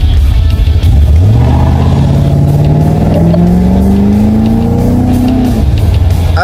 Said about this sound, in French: Allez, un petit départ 0 à 50.